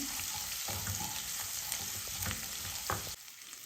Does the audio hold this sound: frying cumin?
yes